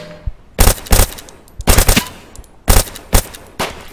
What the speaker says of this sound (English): I'm getting shot, dude.